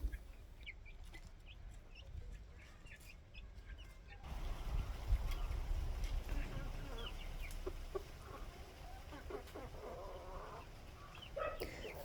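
Chickens cluck softly on a farm with young brown layer hens, scattered short calls over a steady outdoor background hum, with no talk.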